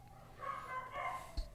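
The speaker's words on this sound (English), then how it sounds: "those dogs are really on about something" Dogs bark and yip somewhere in the distance, a short muffled run of calls heard faintly beneath steady room noise.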